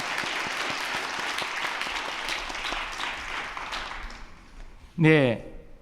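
A church congregation claps for the worship team during a Sunday afternoon service, steady dense applause filling the room for several seconds, then fading as a single voice briefly speaks at the end.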